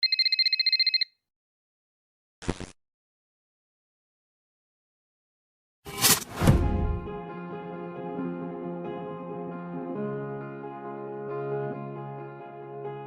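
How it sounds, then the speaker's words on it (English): A telephone rings once in a short, bright electronic burst and then goes silent, followed by a sharp hit and a sustained swelling musical chord. "Alex receives an unexpected phone call."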